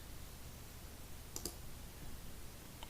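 A single brief mouse click on a GIS map, a quick double tick near the middle, faint against a steady low hum, with a fainter tick at the end.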